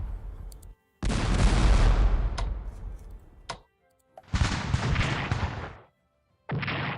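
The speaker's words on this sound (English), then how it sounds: "Try to soften them up with some artillery fire." Artillery fire in a strategy war game set in the Americas, heard as three heavy, booming blasts in quick succession, each ringing out and decaying before the next, loud and alone.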